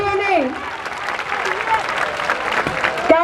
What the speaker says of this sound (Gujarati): તાળીઓના ગડગડાટથી આપણે બધા વધાવશું વિદ્યાર્થીઓને